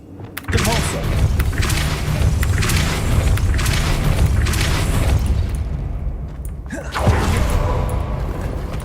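A Depulso force spell in Hogwarts Legacy gives loud, sustained booming thumps with a dense low rumble, a brief dip, then another heavy burst, close and powerful.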